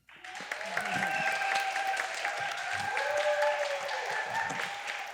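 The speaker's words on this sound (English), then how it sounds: "can we get your applause for the blue team?" Audience applause for the blue team at the opening show of an improv festival, a steady, dense wash of clapping from a full room that holds for several seconds.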